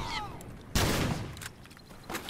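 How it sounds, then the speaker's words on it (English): Gunfire in The Last of Us Remastered multiplayer includes one sharp, loud close-range blast and a few fainter shots, set under game sounds. "I shot you twice with the shorty in close range."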